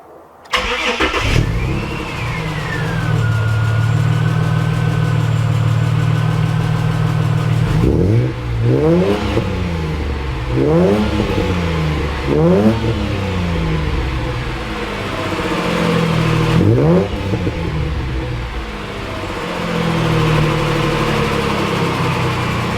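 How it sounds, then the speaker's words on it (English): Barra-engined car with upgraded exhaust and extractors starts up loud and close, idles with a deep rumble, then revs through several rising and falling sweeps before easing off. "Let's go for a drive and see how this thing sounds and performs now."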